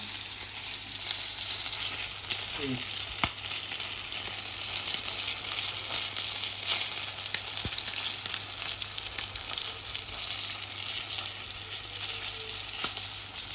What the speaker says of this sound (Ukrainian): як воно шкварчить.